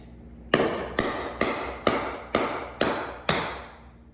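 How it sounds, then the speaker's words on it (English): Seven evenly spaced, sharp strikes on a chisel cutting a rubber mat in a barn, each a crisp knock with a short ringing decay, close and loud. "Tried cutting the rubber mat with a chisel."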